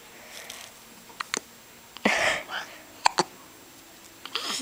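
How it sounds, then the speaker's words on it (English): A little one's hiccups: several quiet, brief, sharp catches spaced irregularly, with soft murmuring and small breathy sounds between them. "The little one has the hiccups again."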